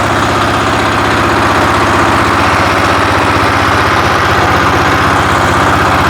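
A diesel walk-behind tractor engine runs steadily with a deep, throbbing, uneven knock while the machine is driven in first gear, loud and close throughout with no talk.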